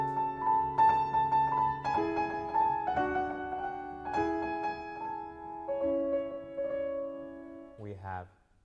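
Middle section of Mussorgsky's Goldenberg and Schmuyle from Pictures at an Exhibition, heard as sustained, resonant keyboard notes in slow repeated phrases at moderate volume, ending with a quick flourish.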